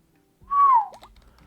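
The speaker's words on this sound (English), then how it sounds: "that whistle was awful" A person whistles one short, clear note that slides slightly down in pitch, close and alone against near silence, followed by a faint soft click.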